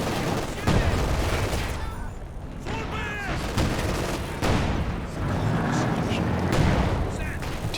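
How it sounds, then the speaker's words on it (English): Machine gun suppressive fire amid a Company of Heroes 2 battle, loud rattling bursts and booming explosions layered with battlefield din while a commentator talks throughout. "MG getting the suppression going"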